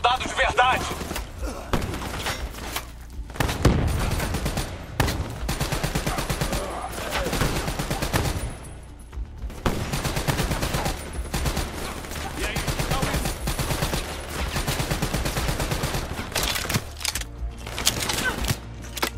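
Gunfire in the video game Call of Duty Black Ops 3 comes as dense, rapid bursts of automatic shots and booming impacts that continue almost nonstop, loud and close, with a voice speaking at times beneath the battle.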